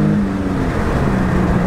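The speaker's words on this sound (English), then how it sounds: "Let's give it some gas." An Infiniti G37 S Coupe engine pulls under throttle with a loud, steady low drone throughout a short burst of acceleration.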